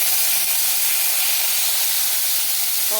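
Leafy greens fry in hot oil in a wok, giving a loud, steady, hissing sizzle that carries without a break and with no voices over it.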